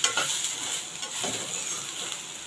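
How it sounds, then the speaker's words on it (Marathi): Dry grated coconut and onion roast in a pan, giving a steady soft sizzle with faint stirring scrapes and light clinks, close and moderately quiet. "आता आपण हे चांगलं भाजून घेऊया थोडं खोबरा वगैरे सुका खोबरा भाजलं गेलं पाहिजे"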